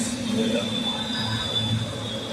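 Steady rumble of an Ahmedabad metro train in motion, with a constant high whine and low rolling drone throughout.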